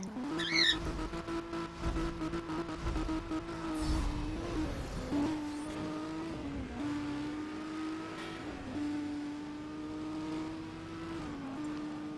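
A Nissan Skyline R34 Z-Tune accelerates hard in the racing game Need for Speed World, its engine holding a steady, strong drone that climbs in pitch with brief dips at gear changes, loud and continuous throughout.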